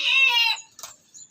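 Small caged birds being fed a mixture of small seeds give a loud, close burst of chirping, followed by a brief flutter of flapping wings.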